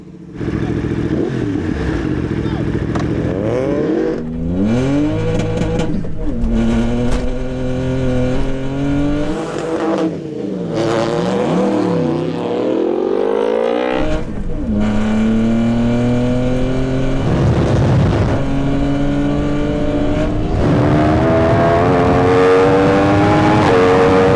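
A VW Up car drag racing a superbike, with loud continuous engine roar, rising revs and repeated gear-change dips throughout, close and steady with no talk.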